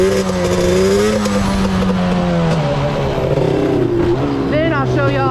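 Yamaha Banshee ATV engine revving loud and close during a clutch wheelie, the pitch rising and falling in waves as the throttle is worked, then climbing sharply near the end.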